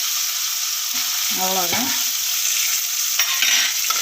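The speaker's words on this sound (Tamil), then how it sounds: "வாழைக்காயை வந்து இந்த மாதிரி சுருள நல்லா வதக்கிடணும்" Raw plantain slices frying in hot oil in a pan, with a steady sizzle throughout and scraping strokes of a spoon stirring them near the middle, close and fairly loud, with a brief word spoken.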